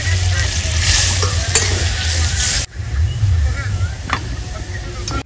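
Loud, crackling sizzle of fried spice paste in a pan, for a fish curry, cuts off sharply as water is poured in, then turns into a softer bubbling hiss with stirring.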